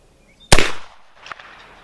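A Remington black powder revolver fires one loud, close shot with a sharp crack that rings out and decays over about half a second, followed by a fainter, smaller report moments later.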